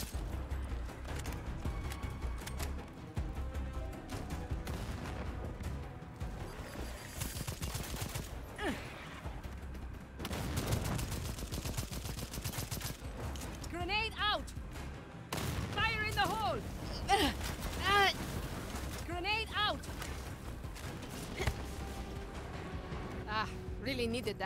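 Gunfire in the shooter video game Second Extinction comes in dense bursts and fusillades throughout, loud and layered with other game effects, while players talk over the action.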